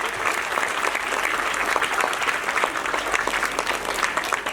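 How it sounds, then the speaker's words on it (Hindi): An audience applauding to welcome guests at an annual function, a dense steady clapping that fills the room throughout. "श्रीमती मुक्ता जैन जी, इनका भी तालियों के साथ स्वागत करें।"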